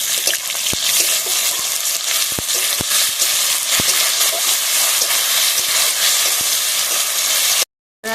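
Ginger and garlic fry loudly with potatoes and onions in a pan for a spicy snail curry, a dense sizzle broken by sharp spatula scrapes and clicks. It cuts off abruptly near the end.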